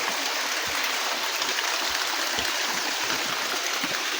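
A small waterfall pours steadily nearby, a constant broadband rush of falling water with no pauses and no voices.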